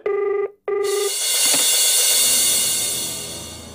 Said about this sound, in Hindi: उसी दीपक मेहरा का फोन है सर